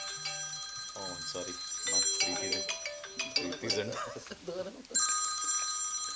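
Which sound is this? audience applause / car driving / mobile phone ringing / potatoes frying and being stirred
mobile phone ringing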